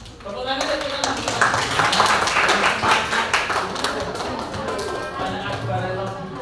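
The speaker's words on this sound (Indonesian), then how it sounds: "tepuk tangan saya tepuk tangan" A classroom of students claps during a history lesson, an uneven burst of hands that swells and thins, with a teacher's voice talking over the clapping.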